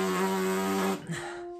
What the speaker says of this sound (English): without the French horn, the lips buzzing by themselves sounds kind of like this